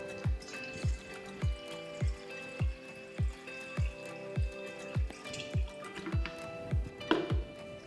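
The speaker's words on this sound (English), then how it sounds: "Triple rinse the tank with clean water by filling the tank." Clean water pours into the plastic tank of a B&G Primeline pump sprayer. Water drips and splashes in a steady, evenly spaced rhythm at about two per second, faint and close, with no voice over it.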